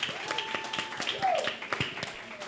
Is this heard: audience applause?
yes